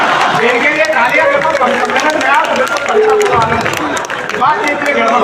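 An audience at an all-India poetry gathering at a fairground in Lakhimpur breaks into sustained applause for a poet, steady loud clapping and crowd noise filling the whole stretch, with babble mixed in.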